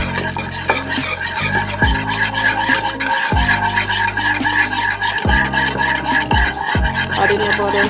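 Butter being whisked into a pan sauce for pan-seared salmon, a steady scraping, rubbing whisk rhythm that is loud and close, running under a continuous voice.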